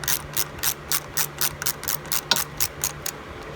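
A ratchet wrench clicks in quick, regular bursts while backing off a 10mm plastic nut on a Porsche Boxster 986, close and crisp with a faint steady hum underneath.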